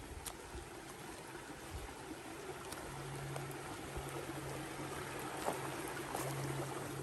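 Creek water flows steadily where two streams converge along the Pinhoti Trail in the woods, a soft continuous trickling wash heard close by and alone, without talk.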